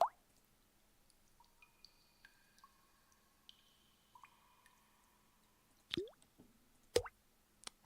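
Water drips one drop at a time as sound effect samples used for ink dripping, giving sparse, quiet plinks and plops with ringing tails in near silence, ending in two louder, wetter plops.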